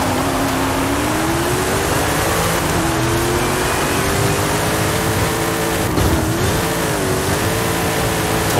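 A Toyota drives on snow in the Forza Horizon 5 video game, its engine droning steadily and rising and falling in pitch as it slides and accelerates, with no talk over it.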